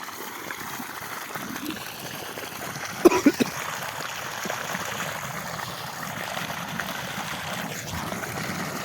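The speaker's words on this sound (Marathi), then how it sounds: "आता पाणी जास्त मारायला लागलं" Steady rushing water pours continuously from an irrigation pipe watering a sugarcane field, with a brief burst of splashing partway through.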